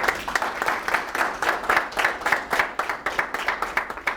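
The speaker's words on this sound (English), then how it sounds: "let's give a round of applause to Dr. Kuszai." An audience at a poetry workshop gives a round of applause, a steady, continuous patter of many hands clapping at close to moderate distance.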